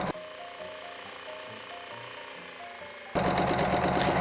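A sewing machine stitches an apron along a 5/8-inch seam allowance, its motor whirring steadily and close, then growing louder and busier in the final second.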